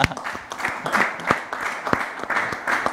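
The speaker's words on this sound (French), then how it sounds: "Est-ce qu'on peut l'applaudir quand même, hein?" A small audience claps for a co-presenter on a talk show, a brief burst of scattered, uneven handclaps lasting a few seconds with no voices over it.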